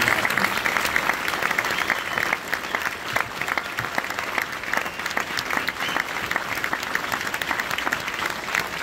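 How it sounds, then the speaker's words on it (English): Sustained applause from an audience at a band camp performance, honouring the staff who taught instrument groups and theory; dense, steady clapping fills the whole stretch with a faint murmur of voices underneath. "if you could give them a round of applause"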